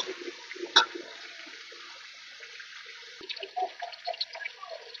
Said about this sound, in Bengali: তারপর এটার মধ্যে পানি দিব